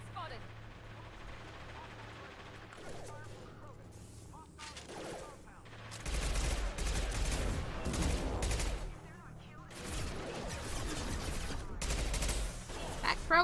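A Krogan fires weapons during combat in the video game Mass Effect 2, producing loud bursts of rapid gunfire with a lull in between. Someone speaks quietly underneath the shooting.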